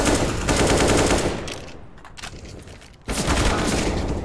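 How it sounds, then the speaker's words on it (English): Rapid automatic gunfire bursts through the mid door on Cobblestone in Counter-Strike, loud crackling volleys that ease off briefly in the middle before a sharp renewed burst, with no talk over it. "he hears shots actually coming through that mid door"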